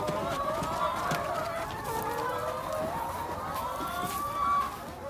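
Laying hen clucking on a small egg farm, a steady run of repeated nasal clucks and cackles close by, with other fowl murmuring in the background.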